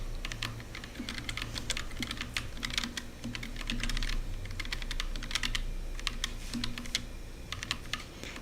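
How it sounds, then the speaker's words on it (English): Rapid, steady typing on a computer keyboard, dense clicking keystrokes in quick bursts with brief pauses, close and clear with a faint background hum and no talking. "Flexing with my keyboard."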